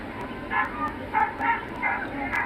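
A dog yelps in repeated short cries during an attack by another dog, with about five distinct yelps at moderate distance over background noise.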